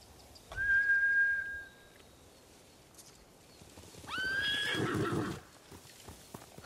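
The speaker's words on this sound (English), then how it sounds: "Bastards scared off the horses." Horses in the video game Ghost of Tsushima give two loud, clear neighs a few seconds apart, with hoof clip-clops as they run off; no talk.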